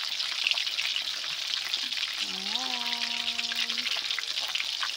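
Tilapia crackles steadily as it fries crisp in a pan of hot oil, a dense, continuous sizzle that runs throughout, with a person speaking briefly over it.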